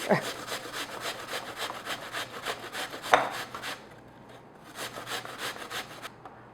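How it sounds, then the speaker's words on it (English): Repeated rough rasping strokes of an apple being grated down to the core on a box grater, steady rhythm close by, pausing briefly then resuming before stopping. "So I'm just going to grate this. Just grate right down to the core. Sorry, it's noisy."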